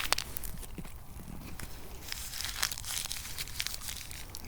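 Plastic sausage packets crinkle and rustle close by on a winter ice-fishing trip, a steady scratchy crackle with brief crunchy bursts, no voices.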